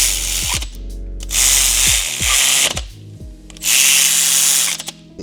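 A power tool bolts engine mounts into a supercharged V8 mini box truck, with several bursts of whirring and ratcheting separated by short pauses and clicks, loud and close, with no speech.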